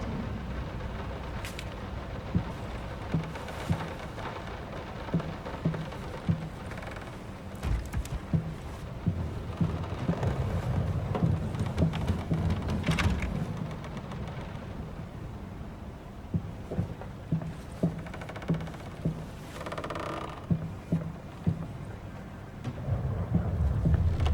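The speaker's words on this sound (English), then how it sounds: "Will this storm ever run out of rain?" Heavy thunderstorm in the horror game Layers of Fear: steady loud rain with repeated thunder cracks and low rolling rumbles throughout, no voices.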